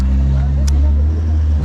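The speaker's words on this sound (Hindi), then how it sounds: "टनल में इसकी गाड़ी की इतनी आवाज़ अभी भी लग रही है ना" Vehicle engine droning steadily inside a road tunnel, a loud low hum that fills the space while people talk over it.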